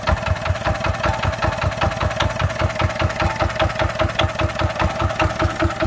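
A small Yanmar F4 mini engine fitted with a light runs steadily nearby, a loud, even, rapid mechanical chugging with a constant rhythmic knock and no talking.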